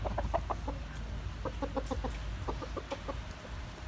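Young Central Vietnam fighting chickens of about 2.6 to 2.7 kg clucking in short repeated bursts, close by over steady low outdoor background noise, with no talking.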